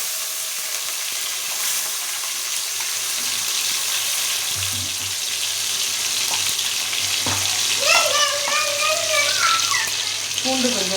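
Ground shallot and tomato paste dropped into a hot pan with curry leaves for fish curry, giving a steady sizzle that builds and crackles more sharply near the end, with some stirring and a brief voice in the background.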